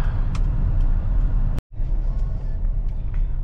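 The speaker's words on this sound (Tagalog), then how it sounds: "Sobrang traffic sa ano, papuntang Agora Terminal." A car drives through heavy road traffic on the way to Agora Terminal, with a steady low engine and road rumble that cuts out for a moment partway through.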